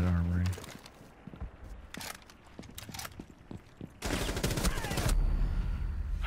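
Gunfire in Rainbow Six Siege gameplay: sharp single shots scattered through the middle, then a sustained rapid volley near the end, close and loud, with a player's voice talking over parts of it.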